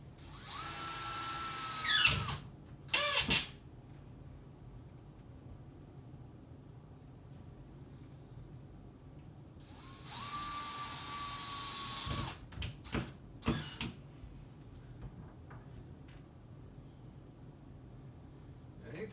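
A power screw gun drives drywall screws through drywall into a wall stud in two short bursts, one loud whine near 2–3 seconds and another near 10–12 seconds, separated by quiet pauses with small handling knocks.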